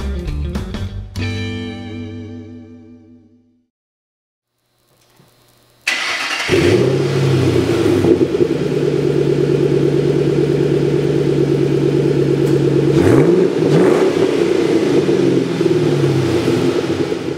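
A 2006 Ford Mustang GT's 4.6-liter V8 rings down from a rev, goes silent, then fires up with a loud burst and settles into a steady, deep idle, close and alone, with a couple of small rev changes.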